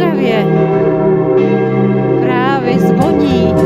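Church bells ring in Ostrava on a December morning, a steady, sustained peal of overlapping tones that carries loud and unbroken.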